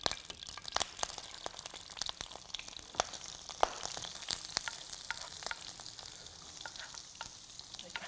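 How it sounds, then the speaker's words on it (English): Vegetables stir-fried in a hot pan for an Indomie noodle dish hiss with a steady soft sizzle, broken by frequent sharp clicks and scrapes of the utensil tossing them. "So right after stir frying the vegetables,"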